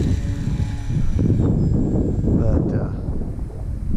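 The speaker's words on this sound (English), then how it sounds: "that wind, wind's fierce today." Strong wind gusts at an airfield where a Stinson Reliant aircraft sits, a steady low buffeting roar across the microphone throughout, with someone talking over it.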